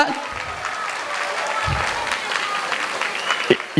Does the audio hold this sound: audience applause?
yes